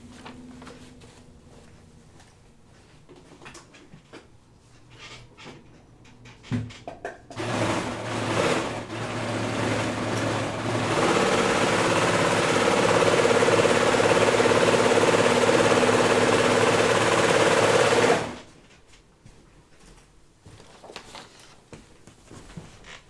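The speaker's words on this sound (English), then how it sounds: "I need to go serge this." A serger overlock sewing machine trims and stitches along a fabric edge on a jean jacket, running as a steady, loud mechanical whir for roughly ten seconds before stopping abruptly, with quieter room sounds before and after.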